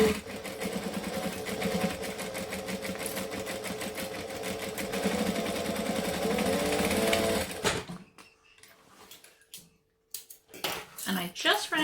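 Sewing machine back stitching a bag, a fast rapid rattling stitch run that goes on steadily for several seconds, then stops, followed by quiet handling clicks and a voice talking.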